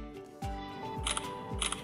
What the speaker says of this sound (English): Right now, you can hear the shutter sound loud and clear.